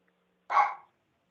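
A single short bark from a pet dog, clear and fairly close, standing alone against near silence.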